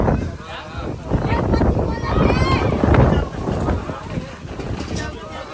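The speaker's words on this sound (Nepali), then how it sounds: "हावाहुरी लायो" Gusty wind roars and rumbles in a forest, loud and close, rising and falling over several seconds while a voice talks over it.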